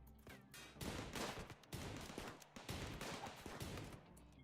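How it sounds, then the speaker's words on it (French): Explosions and gunfire from a RimWorld battle, with dense, loud bursts of blasts and crackling shots running steadily through the stretch and no voice. "j'ai entendu une grenade"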